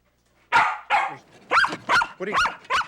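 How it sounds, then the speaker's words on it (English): Tracking dog barking close by, about six sharp barks in quick irregular succession after a brief silence, loud and alone. "he and his dog Valerie tracked Claudia's scent to the home of Anthony Grant"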